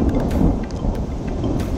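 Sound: thunderstorm with heavy rain

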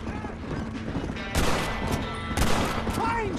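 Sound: gunshots in Red Dead Redemption video game

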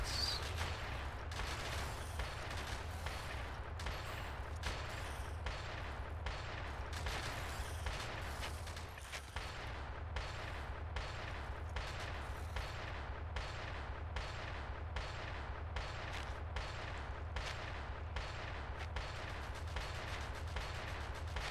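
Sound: turret and rifle gunfire in Factorio video game

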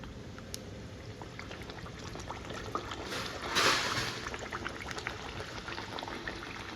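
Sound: puri frying in hot oil

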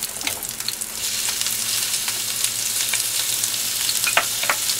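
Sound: shrimp frying in pan with garlic and mushrooms

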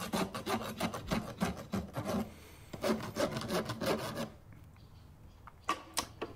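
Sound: farrier filing sharp edges off horse hoof with rasp

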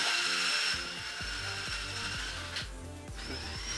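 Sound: drilling with a 3/8 inch drill bit

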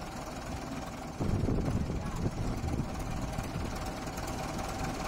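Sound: tractor engine running while harvesting watermelon seeds

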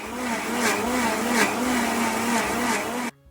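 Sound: mixer grinder grinding grated coconut

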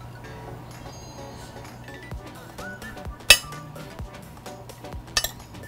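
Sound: mixing shredded beef and onion in a bowl

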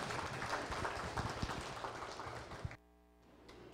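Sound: audience applause welcoming a speaker

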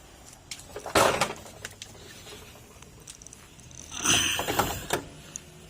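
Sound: rear wheel brake drum being spun after lining replacement

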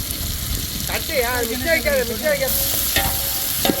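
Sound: frying vadagam tempering for fish curry

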